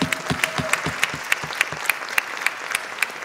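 An audience at a conference talk applauds, a dense, steady wash of clapping hands with a few sharper individual claps standing out, sustained at even loudness throughout.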